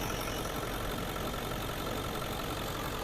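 A Cadillac engine idles steadily with its oil fill cap removed, a dense, even rumble with a faint rhythmic knock, heard close and alone.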